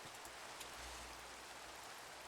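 Steady rain falling in a video game, a soft, even hiss of broadband patter with no variation, faint and distant, with no voices.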